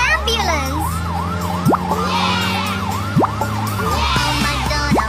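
A toy-like ambulance siren wails in a rapid, repeating rising-and-falling pattern, loud and close, with a few short sliding whoops cutting in over a steady low hum, set against a children's farm-song video.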